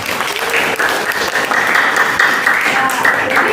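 Classroom applause for a student named Emma during a school lesson, steady dense clapping from a group filling the whole stretch, with voices mixed in underneath.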